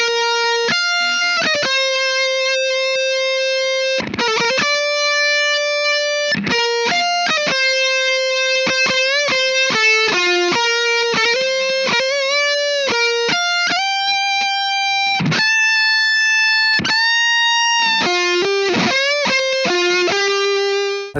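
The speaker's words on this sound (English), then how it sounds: "I found a way to recreate a decent Big Muff sound by stacking two distortion pedals on top of each other" Electric guitar with a thick, saturated fuzz tone from two distortion pedals stacked into a Big Muff-style sound, playing a loud, sustained melodic line with held notes and quick runs, alone without talk.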